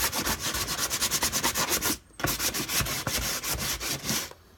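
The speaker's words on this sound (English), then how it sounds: "sand down the area that I'm going to repair" Rapid rhythmic sanding strokes on a fibreglass GRP livestock drinker before repair, close and loud, with a brief pause midway before the scraping rubs resume.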